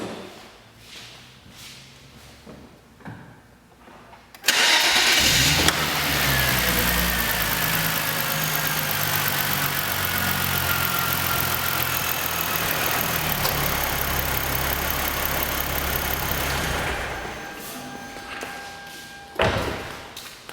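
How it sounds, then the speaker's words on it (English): A car engine cranks and catches after an ECU reflash, then idles steadily and loudly up close for about twelve seconds before shutting off, with faint clicks and knocks before and after. "Make sure your car starts up."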